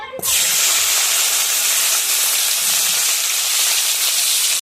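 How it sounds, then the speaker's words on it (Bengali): Cauliflower and potato pieces fry in hot oil with a loud, dense, continuous hiss and crackle that bursts in abruptly at the start, holds steady close up, and cuts off sharply at the end. "কপিগুলো ভেজে নিচ্ছি"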